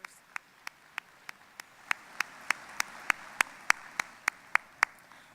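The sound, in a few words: audience round of applause for students and teachers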